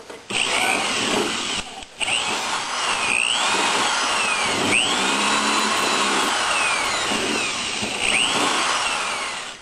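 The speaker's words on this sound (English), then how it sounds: "Okay, we're going to start drilling." A power drill whines steadily and loudly for about nine seconds, briefly stopping near the start, with a grinding, rising and falling pitch as it bites through a motorcycle turn-signal bulb holder.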